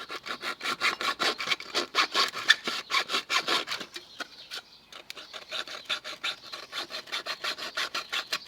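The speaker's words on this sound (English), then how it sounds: "Probably because I'm sawing on this flat surface." A thin aluminium oxygen can is sawn by hand on a flat surface with even back-and-forth strokes. The strokes pause briefly midway, then resume at a steady rhythm.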